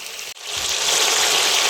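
Fish pieces dropped into hot spiced oil in a pan, a loud, steady hiss and sizzle that swells after a brief break near the start and then holds on without any talk.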